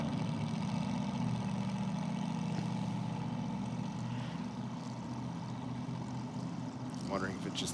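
A nitro hot rod drag car engine idles with a steady, rough, low rumble heard continuously at a fairly constant level.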